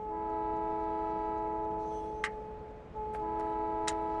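Trains running on rail tracks in the video game Factorio with the Krastorio mod, giving a steady mechanical hum with a few short sharp clicks and ticks on top.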